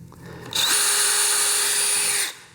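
A power drill bores through a wooden kitchen shelf board propped on a workbench, starting with a short rising whine, then a steady, loud, continuous drilling roar for about two seconds before cutting off cleanly.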